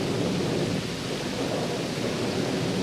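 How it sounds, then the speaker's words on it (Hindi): Heavy rain pours down in a steady, dense roar with thunder rumbling beneath it in a cartoon storm, continuous and close, with no voices. "बाहर बहुत तेज बारिश हो रही है"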